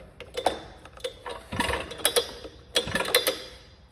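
Pull rope starter of a Hilti DSH 900-X concrete saw being refitted by hand, giving a run of faint mechanical clicks and ratcheting ticks in small clusters, close up with no talking.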